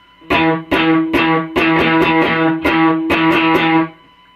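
Electric guitar playing the main riff with a distorted tone, a run of bright chord strokes in groups ending in three quick strokes, loud and close with no talking.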